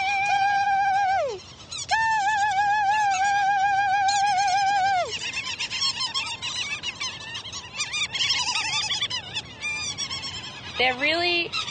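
Loud, nasal honking calls from territorial birds close by in East Coast Australia, long drawn-out cries followed by a rapid burst of overlapping calls.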